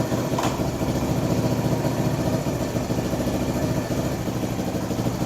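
A Kawasaki KL250 motorcycle idles steadily with no throttle, its close engine putting out an even, continuous throb for the whole stretch without any revving.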